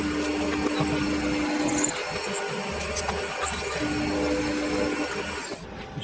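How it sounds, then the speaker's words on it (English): A handheld drill bores into aluminium for a mill Z-axis ball screw part, a steady loud motor whine with a bright tonal hum running continuously, dipping briefly midway and easing off near the end. "Drill I bought recently doesn't much care for drilling steel, so let's see how we go in aluminium."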